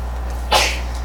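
A single short sneeze bursts out sharply in a quiet room, close and fairly loud, then fades away within a second.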